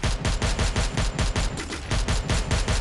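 Rapid automatic gunfire from a Parafal rifle in a video game, in steady bursts, loud and continuous throughout, with no voices.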